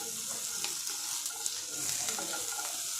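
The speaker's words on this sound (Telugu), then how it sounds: "పచ్చిమిరపకాయలు ఫ్రై అయిపోయాక ఉల్లిపాయలు, టమాటా వేసి వాటిని కూడా ఫ్రై చేసుకోవాలి." Green chillies, onions and tomato fry in a pan with a steady, soft hiss of sizzling oil, stirred now and then with faint scraping ticks, no voices over it.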